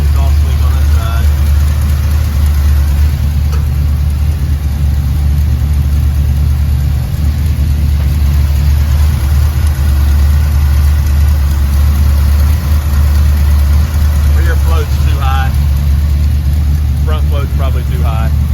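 Engine of a Brawler 750DP on Big Red idling while warming up, with an exhaust leak on one side, a loud steady close-up rumble throughout, with brief talking heard over it near the end.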